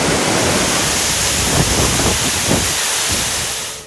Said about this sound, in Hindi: मिंठू का आबशार का शोर मचाता लहराता पानी जब पत्थरों पर गिरता है